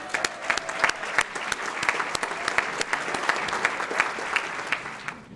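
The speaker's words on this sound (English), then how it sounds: "I want to give you all a round of applause." Steady applause fills a room at a chamber of commerce annual dinner, many hands clapping together at moderate volume, holding fairly even before tapering off at the very end.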